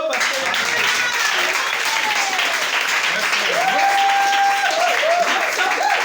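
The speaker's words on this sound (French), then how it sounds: "Acclamez pour Dieu" Church congregation applauding during a French-language sermon, a steady wash of clapping throughout, with a preacher's voice talking over it.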